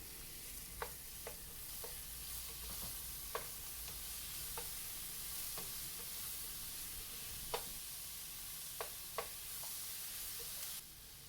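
A medium-size tomato fries and is stirred in a pan for paneer butter masala: a steady, close sizzle runs throughout, punctuated by sharp intermittent scrapes and clicks of the spoon.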